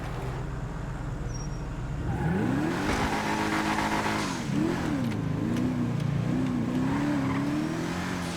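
A V-STR car in GTA is driven hard, its engine note climbing and wavering through revs with tire squeal, loud and close throughout with no talking.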